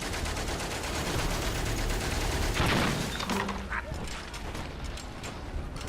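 Machine gun fire rattles in Valiant Hearts: The Great War, a dense continuous burst of rapid shots over heavy battlefield noise, followed by a few clanking mechanical sounds.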